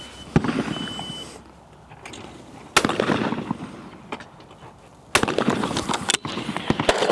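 Shotgun shots from a Beretta 688 with laminate stock at clay targets: three loud, sharp reports spaced a couple of seconds apart outdoors, each followed by a decaying echo and quieter ambient noise.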